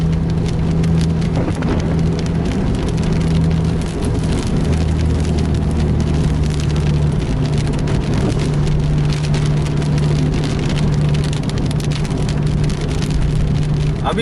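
Steady broadband rain and road spray wash over a low, droning bus engine hum throughout, heard from inside a bus moving fast along a wet, slippery road, loud and continuous with no voices.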